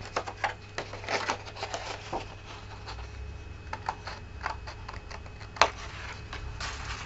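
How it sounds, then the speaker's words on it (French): Small scissors snip through paper card in a few quick, light cuts, close and fairly quiet, with short crisp clicks scattered over a faint background. "Je vais couper là et là pour enlever ce petit morceau."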